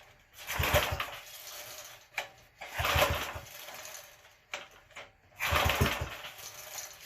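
Small engine on a Gilson rear tine tiller, running on governor control after a recoil repair, chugging in several short uneven bursts separated by quieter gaps, moderately close with no talk over it.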